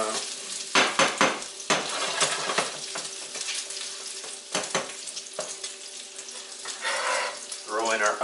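Food sizzling in a frying pan as it is flipped and stirred by a blind cook, with sharp scrapes and clatters of a utensil against the pan over a steady fry, close by, and a short stretch of running water near the end.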